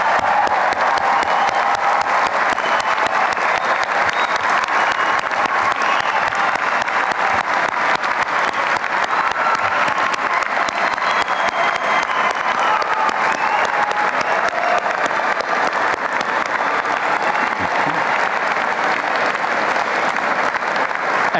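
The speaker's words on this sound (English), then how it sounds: "I invite the entire class to stand while our family and friends join me in applauding this outstanding cohort of Berkeley engineers" Sustained applause from a large commencement audience of family and friends honoring a graduating Berkeley engineering class, steady and dense throughout with no speech over it.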